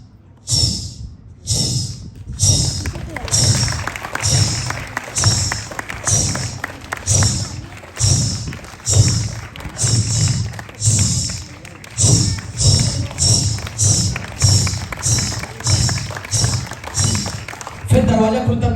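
A comedian's voice mimics the jingling of ghungroo ankle bells at a Mumbai comedy show, a long run of evenly spaced, rhythmic bursts repeating steadily and close up, each a bright jangle over a lower thud.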